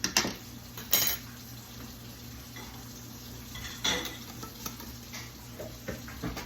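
Spoon stirring an Asian-inspired sauce with brown sugar in a bowl, soft scraping with a few sharp clinks of metal against the dish, quiet and close, with pauses between strokes.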